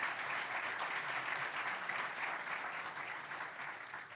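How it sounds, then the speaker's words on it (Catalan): Steady audience applause at a venture capital anniversary event in Catalonia, a dense, even burst of clapping from a seated crowd filling the whole stretch at moderate volume. "Un aplaudiment abans de començar"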